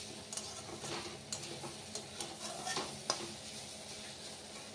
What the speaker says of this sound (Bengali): এবার সুন্দর করে লাল লাল করে ভেজে নিয়ে নামিয়ে দেবো